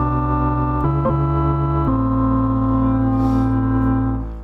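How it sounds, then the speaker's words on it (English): XY instrument sampler in a DAW playing sustained layered tones, a dense droning chord that shifts pitch twice early on, loud and continuous before fading at the end, with no voices. "So this is called the XY instrument."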